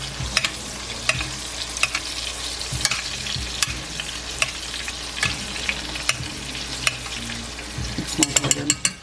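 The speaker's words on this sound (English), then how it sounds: "halibut has been dropped into the cast iron here." Halibut fries in a cast iron pan, a close, steady crackling sizzle with frequent sharp spits and pops, growing busier near the end, with no talking.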